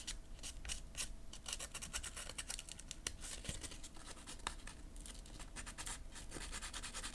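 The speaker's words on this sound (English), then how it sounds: "So I'm just sanding down some of those more obvious spots." Quiet, rapid scratchy rubbing strokes, close up and continuous, as fine sandpaper is worked back and forth over a small miniature figure.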